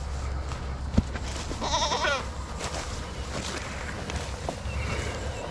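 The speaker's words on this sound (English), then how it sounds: "You got some new goats." Newly arrived goats give a short, wavering bleat nearby, with soft shuffling and footstep-like noises around it and a low background rumble.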